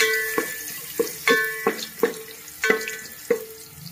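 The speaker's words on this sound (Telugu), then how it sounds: "ఈ రెండు వేసుకొని ఇవి కొంచెం బాగా వేగనివ్వాలి ఫ్రెండ్స్" Garlic pieces frying in a pan for egg fried rice, with a soft sizzle underneath and about nine rhythmic knocks from a utensil tapping the pan, close by with no voices.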